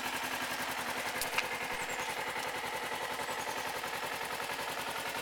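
A carbureted 2009 Kawasaki Ninja 250R engine idles cold with no choke, a steady, rapid, slightly uneven putter running throughout at close range.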